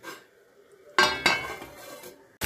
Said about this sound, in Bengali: দিয়ে ভালো করে আবার নাড়িয়ে নেব, তারপর এটাকে আমি ঢাকা দিয়ে ভালো করে কষতে দেবো